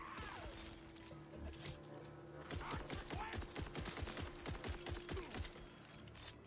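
Rapid gunfire in the video game Borderlands, a burst of regularly spaced shots rattling over continuous game music and ambience, with a short calmer stretch before the shooting picks back up and runs steadily to the end.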